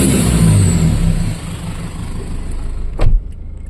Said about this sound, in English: now let's try and rev it up to red line